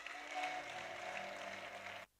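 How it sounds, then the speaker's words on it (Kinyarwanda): Congregation applauding during a church sermon, a steady wash of clapping with a faint tonal hum beneath, fairly quiet and continuous before cutting off abruptly near the end. "Dukomere Imana amashyi menshi"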